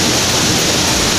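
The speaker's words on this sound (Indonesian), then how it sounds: "air terjun Seganing. Mungkin kalau di Bali dibilang Sibuan Seganing." Seganing waterfall in Bali, a secluded cascade known locally to village residents, roars as a loud, steady broadband rush of falling water, close and unbroken, with no voices.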